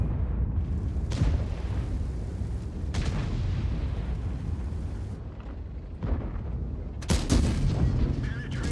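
Booming tank cannon fire in the World of Tanks video game, heavy blasts over a constant low engine rumble and battle noise, with a couple of sharper reports standing out.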